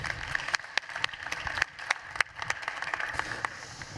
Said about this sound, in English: I'd like a round of applause for the speakers